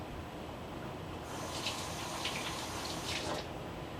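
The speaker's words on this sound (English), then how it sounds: "Let me wash my hands." Hands being washed under a running kitchen tap in a steady, close splashing rush of water that swells and breaks as the hands move through the stream, with no talking.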